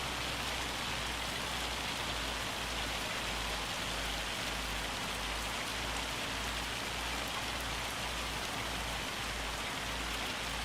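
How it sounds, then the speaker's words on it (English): Hail pours down steadily in the Farming Simulator 25 video game, a dense, continuous hiss of pellets striking surfaces with a faint low pulsing underneath, with no voices over it. "Just listening to that hail come on down."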